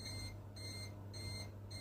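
On a Linux PC built around an Asus M5A78L-M motherboard, a temperature alarm beeps during video encoding, giving a faint, steady, repeating electronic tone pulse over a constant low hum.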